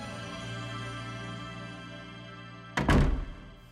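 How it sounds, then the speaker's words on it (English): A heavy door thuds shut in a Super Smash Bros. cutscene, one loud low impact with a short rumbling tail near the end, following a steady sustained tonal background. "the being leaves the room with the thud of a door"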